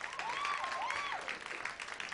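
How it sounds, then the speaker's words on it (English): A comedy-show audience applauds steadily at a moderate distance, a faint continuous patter of clapping with a brief whistle-like tone over it. "Y'all give me a round of applause for that."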